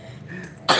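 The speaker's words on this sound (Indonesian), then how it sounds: "Batuk masih nah." A single sharp cough bursts out near the end after a quiet stretch of low background murmur at a live outdoor music event.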